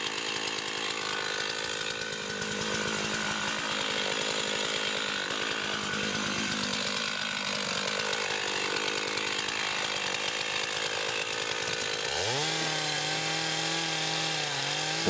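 A chainsaw runs loud and continuous, close up, making the back cut to fell a tree trunk, and its engine pitch shifts sharply near the end as the cut changes.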